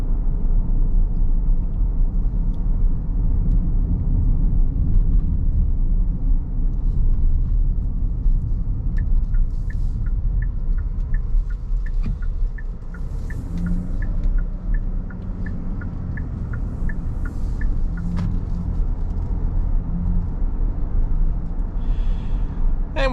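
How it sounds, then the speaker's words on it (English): Inside a 2024 Kia Carnival on the move, a steady low engine hum and road rumble fill the cabin at an even level, with a brief run of soft ticking clicks partway through. "And with normal acceleration, the engine stays nice and quiet too"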